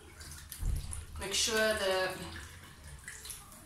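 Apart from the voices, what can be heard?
wig being wet under running tap water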